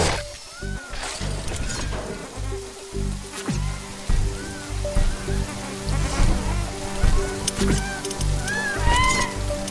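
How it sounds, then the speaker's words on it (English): Rain in The Riftbreaker video game: steady patter and spattering drops over a base, mixed with chirping game effects, electronic tones and low rumbles throughout. "This rain is harmless to our base, but it decreases solar panel efficiency until it stops."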